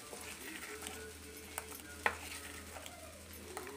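Curry leaf dosa batter is mixed in a bowl, giving quiet, intermittent scraping and wet stirring sounds with a few soft clicks over a low background hum.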